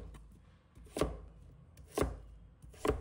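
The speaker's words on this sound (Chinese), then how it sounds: "再改刀切成粗条，最后切成大小适中的小块。" A knife chops taro into small pieces on a board, three separate, firm thuds about a second apart, close and quiet, with no talk.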